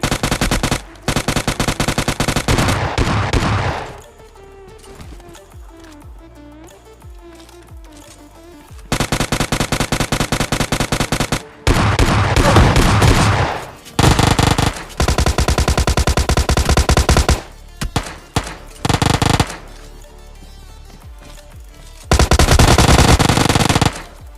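Bursts of automatic machine gun fire in the mobile shooter PUBG Mobile Lite, loud and close, come in several long rapid volleys separated by short quieter gaps.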